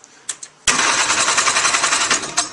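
A vintage two-stroke snowmobile engine catches after a couple of faint pulls, then runs loud and close with a buzzy, rapidly pulsing idle.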